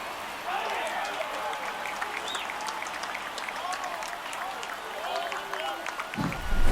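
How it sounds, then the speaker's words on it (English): A Phillies home crowd in the MLB The Show 24 baseball video game roars and applauds after a home run against the Red Sox, a sustained stadium cheer under continuous commentary. "He just sparked this home crowd in a big way."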